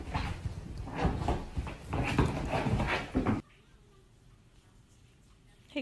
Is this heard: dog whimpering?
yes